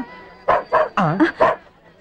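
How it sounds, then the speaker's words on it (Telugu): A dog gives five quick, loud barks in a rapid burst, close by, followed by silence. No talking is heard. "ఆ కుక్కేంటి?"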